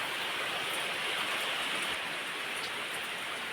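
Steady rain pours outdoors around a covered clay cooking stove and wet firewood, a dense, even hiss of drops on surfaces that holds unbroken and fairly loud throughout, with no voices.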